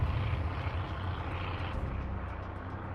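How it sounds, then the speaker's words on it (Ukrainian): Bomber aircraft take off one after another, a steady loud drone of engines with heavy low rumble filling the whole stretch, no voices present. "Бомбардувальники почали один за одним підійматися у повітря."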